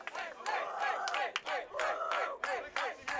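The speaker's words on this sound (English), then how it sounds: "Fun crowd tonight." Fans at a high school baseball game on senior night chant and cheer in rhythmic bursts, a lively crowd sound repeating steadily at moderate distance.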